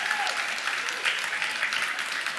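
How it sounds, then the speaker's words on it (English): Steady enthusiastic applause from a crowd at the World Brewers Cup in Dublin, clapping continuously at a fairly loud level from start to finish. "Big round of applause for Stathis Koremtas from Tough in Greece."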